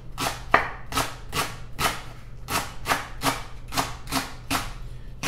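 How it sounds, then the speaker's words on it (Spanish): A knife chops leek into rings on a board for a roast pork dish, about ten sharp, evenly spaced cuts in a steady rhythm, close and clear with no talk. "Vamos a picar el ajo porro en ruedita"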